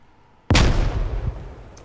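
A frag grenade blows up on a boot camp grenade course in a video game: one sudden loud close blast with a deep rumbling tail that fades over about a second, with no talk.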